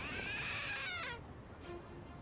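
A single drawn-out cat meow from a trick cat statue in the video game Lost Judgment, clear and fairly loud, rising then falling before fading, followed by a brief faint chirp.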